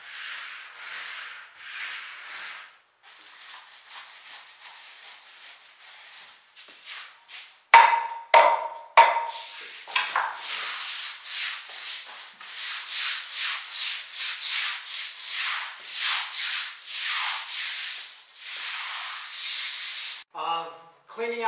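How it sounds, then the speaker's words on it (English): A deck brush scrubs foamed surfaces in a restroom, its bristles rasping in steady back-and-forth strokes, close and fairly loud, with a brief spray hiss and hard clicks near the end. "you take the deck brush. You're scrubbing everything down,"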